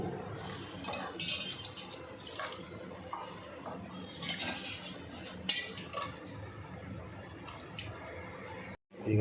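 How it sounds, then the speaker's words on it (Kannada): Spoon scrapes and clinks against a pot as a spice mixture is stirred into hot tempering for a chickpea palya, a steady run of close scraping and light metallic taps over a low kitchen hum, with a brief dropout near the end. "ಈಗ ಇದನ್ನು ಈ ಒಗ್ಗರಣೆಯಲ್ಲಿ ಮಿಶ್ರಣ ಮಾಡ್ತಾಯಿದ್ದೀವಿ"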